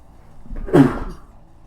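A single sharp sneeze bursts out close by in a quiet room during a tabletop role-playing game session, brief and loud against faint background hush.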